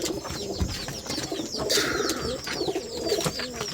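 Rajshahi Giribaz pigeons cooing in a loft, a busy overlapping chorus of soft coos and occasional chirps at moderate level, with no speech.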